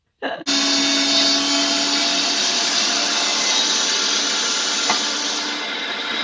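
Electric meat grinder grinding venison for sausage, starting abruptly after a brief clatter and then holding a loud, steady motor whine and whirr throughout with a slight bump near the end, no talk.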